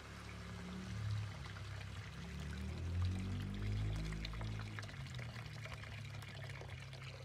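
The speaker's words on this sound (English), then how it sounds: "Now let's add in 1 liter of water." One liter of water pours from a container into a cooking pot of Japanese beef curry, a soft, continuous gushing splash lasting several seconds, close but fairly quiet, with no talking.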